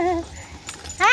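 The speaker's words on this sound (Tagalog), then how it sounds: "Tinatahulan niya yung malaking aso." A dog lets out a couple of high, whiny yelping barks at a large dog close by, with a short pause between them.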